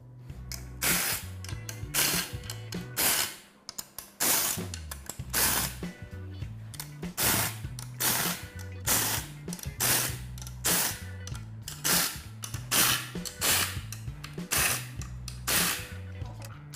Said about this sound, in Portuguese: a gente vai remover esses parafusos de fixação usando um soquete de 12 milímetros